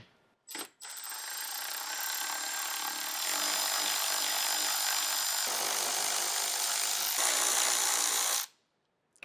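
A power tool runs steadily while pulling the 10mm top grille bolts on a 2024 fourth-generation Toyota Tacoma, giving a loud, continuous whir for about eight seconds that stops abruptly at the end.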